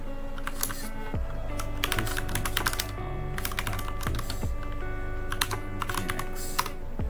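Keystrokes clatter on a computer keyboard as a command is entered to check an nginx service on a Proxmox setup, close and steady with quick bursts and short pauses over a low background hum.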